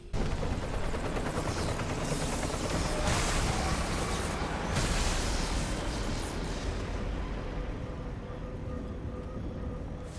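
Helicopters being brought down amid heavy gunfire in the vampire shooter game Redfall, a dense continuous wash of rapid shots, rotor drone and blasts that stays loud and busy throughout without any voices.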